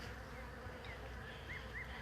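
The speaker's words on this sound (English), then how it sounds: "I have a swarm of bees swarmed out of my hive." A swarm of honey bees that has just left its hive, buzzing as a steady, dense drone close by, with a few higher whines from individual bees passing near.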